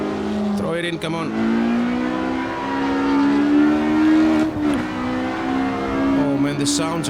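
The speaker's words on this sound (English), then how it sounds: "the sounds are so good. All those V6, all those flat 6s and V12s and V8s." Racing engines of 1960s sports prototypes, V6, flat-six, V12 and V8 types in a racing game, roaring and rising in pitch through gear changes, loud and close, with a voice talking over them.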